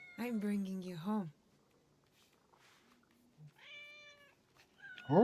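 A kitten meows several times in clear, close, rising-and-falling cries, with quiet pauses between calls and a fainter mew near the end.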